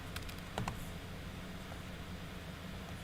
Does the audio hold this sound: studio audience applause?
no